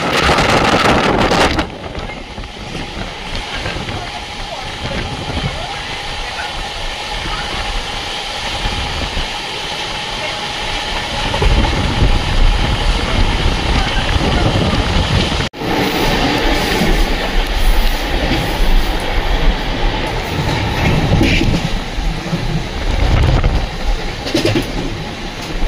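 The 12343 Darjeeling Mail from Sealdah to New Jalpaiguri runs along, heard from inside an AC 3-tier coach as a loud, continuous rumble and rattle with rushing wind noise and a brief dropout midway.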